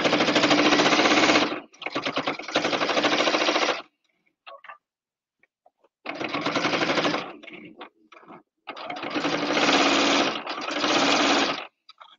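A sewing machine stitches a quilted apron in loud buzzing bursts of a second or two, with quiet pauses between runs as the fabric is lifted.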